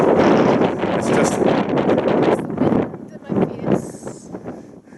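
Strong wind buffets the microphone on a hilltop during a walk in Lough Formal Forest near Derrygonnelly, Co. Fermanagh, loud and roaring at first, then easing into gusts while people talk briefly.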